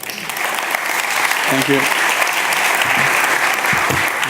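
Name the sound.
audience applause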